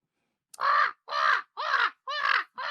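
A person imitating a crow, giving five loud, harsh caws in a steady rhythm, each about half a second long with short pauses between, close and alone with no other sound.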